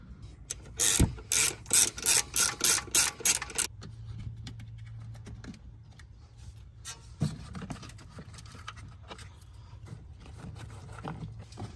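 A ratchet with a T30 bit loosens a bolt near the rear ABS wheel speed sensor on a Mercedes, giving about nine quick, close, loud clicking bursts in a steady rhythm, then quieter handling noises.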